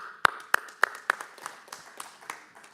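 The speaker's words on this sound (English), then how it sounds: "Please, a round of applause." Applause at an international cancer conference starts with a few sharp claps and thins into scattered, fading clapping from a small audience.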